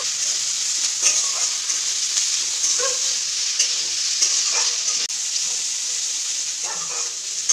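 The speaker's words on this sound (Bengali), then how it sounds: "এবারে ওই তেলে আমি সবজিগুলো ভেজে নেব" Vegetables fry in hot oil left from frying peanuts, making a continuous close sizzle broken by intermittent clinks and stirring scrapes, with no speech.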